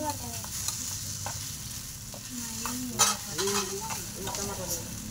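Okra frying in a pan is stirred with a utensil, giving repeated scraping strokes over a soft continuous sizzle, close and moderately quiet, with a brief louder clatter midway.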